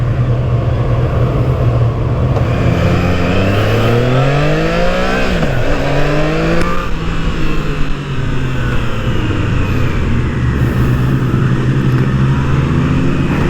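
Triumph Trident 660 motorcycle engine heard while riding: a loud, steady drone with rising and falling pitch sweeps as the rider shifts through the revs, mixed with continuous wind rush and no talk.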